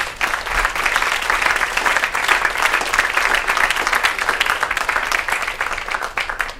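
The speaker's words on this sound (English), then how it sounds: "Is that worth a round of applause?" An audience at a Pace University tribute event applauds a long-serving trustee, a dense, sustained round of many hands clapping at an even, lively level throughout with no talking over it.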